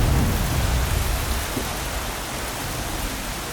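Heavy rain pours down during an outback storm, a dense, steady hiss of drops on surfaces with a low rumbling swell at the start, continuous and close with no voices.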